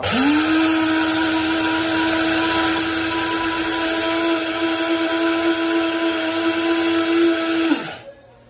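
A mixer grinder whirs at high speed for about eight seconds, a loud, steady motor whine with a strong pitched hum that cuts off sharply at the end, close up with no talk.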